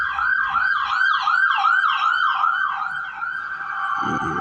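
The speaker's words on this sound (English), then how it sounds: "That siren was right on point." An emergency vehicle siren wails loudly in a steady, fast rising-and-falling cycle, close by, with a low rumble entering at the end.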